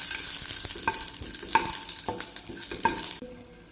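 Curry leaves and green chillies sautéing in hot oil in a pan, a bright crackling sizzle with rhythmic stirring scrapes, cutting off abruptly near the end.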